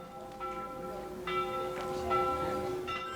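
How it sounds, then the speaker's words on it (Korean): The bell of the Church of the Assumption, a lakeside church where a wishing bell is rung by hand, strikes about four times, each clear, resonant peal ringing on and overlapping the next. "간절한 소원을 담아 종을 울려봤다"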